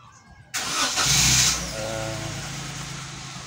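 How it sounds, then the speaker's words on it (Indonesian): A car engine cranks and catches just after a new battery is fitted, with a sudden loud start that settles into a steady idle running on alone. "mobil kita sudah menyala lagi tanpa kendala."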